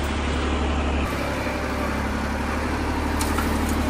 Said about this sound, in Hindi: ट्रैक्टर की सुन से 2 बार भरी हमने रेत